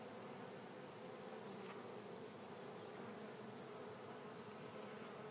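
Honeybees swarm around an open beehive on a hot day, their dense, steady buzzing drone filling the air close by without a break or any voices.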